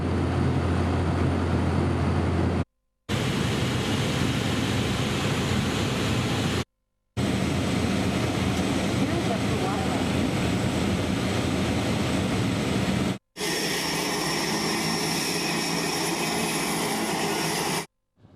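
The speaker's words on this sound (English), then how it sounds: "The noise from the seaplane engines is deafening" Loud, droning seaplane propeller engine roar fills the air continuously, with a few abrupt cuts between stretches of the same heavy aircraft noise.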